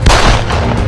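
A single loud gunshot in a gun fight, one sharp booming blast that fills the short moment and rings out briefly.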